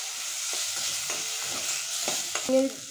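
Potato with ginger garlic paste fries in a pan, a soft steady sizzle with a few scraping stirs and a brief clink near the end, close by with no talk.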